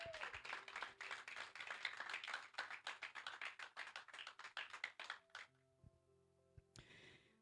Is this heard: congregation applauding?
yes